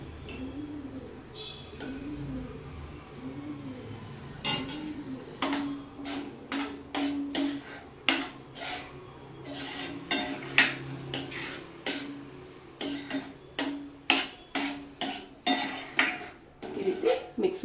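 A metal utensil stirs fried vegetables into a creamy mixture in a pan during a live cooking session, knocking against the pan in a quick, irregular series of sharp clanks that grow louder and more frequent toward the end.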